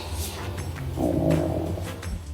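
A dog growls once, low and brief, close by in a quiet indoor craft-filming setting, with no talking over it.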